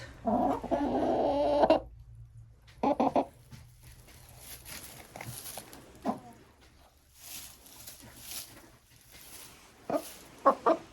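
Hens clucking and murmuring softly while pecking at a grain mix, with a louder burst of clucking at the start, then scattered short clucks and quiet rustling.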